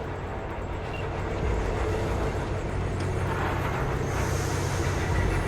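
A Cyberpunk 2077 train rolling over a crossing with a Militech-escorted cargo convoy gives off a steady, low rumbling drone that swells gradually over several seconds, with no talk.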